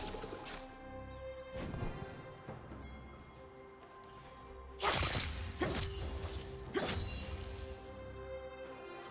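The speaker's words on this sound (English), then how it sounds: "Red Team's turret has been destroyed." A turret gets destroyed in League of Legends, with sharp shattering crashes and debris bursts standing out loud and close over ambient game tones and effects.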